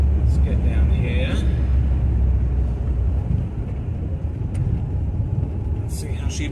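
A VW Type 1 1600 engine with Weber ICT carburetors rumbling during a test drive, a steady low close drone with road noise, a voice speaking over it.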